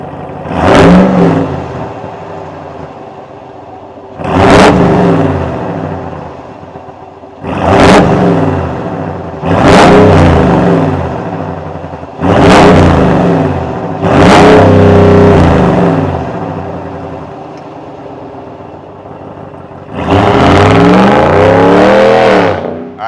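A 2026 Ram 1500 Bighorn with a 5.7-liter Hemi V8 and GT Sport exhaust is revved repeatedly near the tailpipe, about seven loud throttle blips with deep rumbling idle between them and a longer rev near the end.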